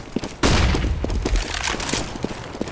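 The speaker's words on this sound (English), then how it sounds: "I throw the flashbang" Flashbang grenade in a tactical shooter match, heard as a sudden loud blast with a sharp onset that drops into a dense, sustained crackle of gunfire and impacts close by.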